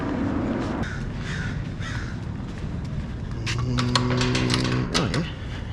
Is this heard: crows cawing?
yes